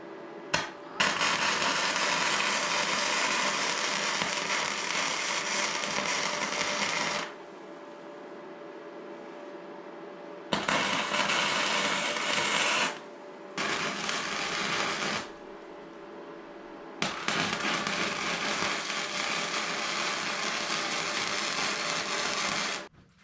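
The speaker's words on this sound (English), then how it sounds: "But I'm just going to finish welding that up." A support is welded onto a gas-powered Power Wheels ride-on build, with four long, steady crackling bursts of welding hiss separated by short quiet pauses.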